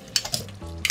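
Food in an uncoated home cooking pot is stirred and scraped, giving a few short sharp clinks and scrapes over a low sizzling simmer, close and fairly quiet.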